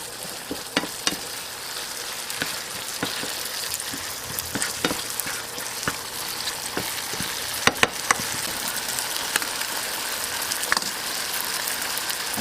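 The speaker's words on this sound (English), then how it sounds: "Now let it cook to thicken a little bit, and the meat takes all the tomato flavor and the nutmeg." A meat sauce with tomato and nutmeg simmers in a pan, giving a steady, soft sizzle flecked with small pops and clicks that recur irregularly throughout.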